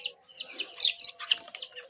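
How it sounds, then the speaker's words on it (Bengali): Young Brahma chicken chicks peep and chirp in quick, high-pitched bursts, close and fairly quiet, with no talking. "আমার কাছে মোটামুটি 17 পিসের মতো ব্রাহ্মা মুরগির বাচ্চা আছে"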